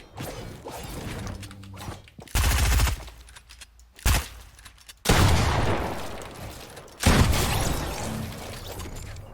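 Gunfire from a gun wall take in Fortnite, where a player claims a wall by shooting rather than swinging the axe. Loud, close bursts of rapid shots repeat several times, with short lulls between them. No speech.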